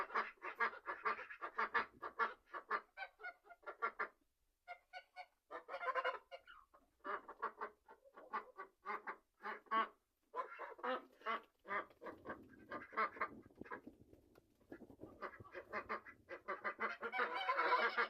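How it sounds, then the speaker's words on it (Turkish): Farmyard geese and ducks honk and quack in rapid, overlapping bursts close by, a busy, squabbling chorus with brief pauses between flurries. "kazlarla ördekleri ayırmamız lazım. Çünkü hiç anlaşamıyorlar."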